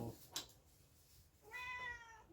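A cat meows twice at close range, a short cry followed by a longer, drawn-out meow, over faint room noise.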